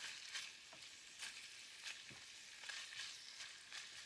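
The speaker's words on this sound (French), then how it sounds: "faut frire à feu doux." Meat-filled pastels fry gently over low heat, a faint, steady oil sizzle with soft periodic crackles and pops, heard alone without talking.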